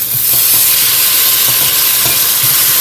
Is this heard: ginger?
yes